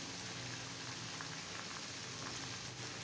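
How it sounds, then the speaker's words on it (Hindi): Tomatoes hitting a hot pan of roasted chicken for karahi, a continuous dense sizzle like steady rain, close and even throughout with no talking. "इस तरह से हम सारे टमाटर डाल लेंगे"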